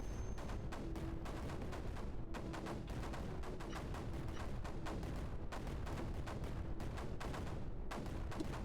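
Mortars fire in Creeper World 4 as a rapid, continuous barrage of sharp shots that keeps up throughout, with no talking.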